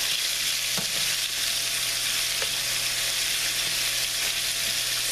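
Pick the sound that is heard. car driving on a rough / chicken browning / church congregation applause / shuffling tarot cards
chicken browning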